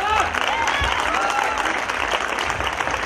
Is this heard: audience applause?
yes